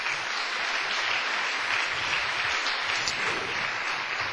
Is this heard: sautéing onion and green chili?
no